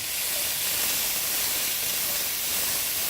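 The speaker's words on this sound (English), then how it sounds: "I'll stir the peas and carrots around just so that they can start to cook down and the oil can coat" Peas and carrots sautéing in hot oil, a steady bright hiss that runs evenly and close throughout with no pauses and no voices.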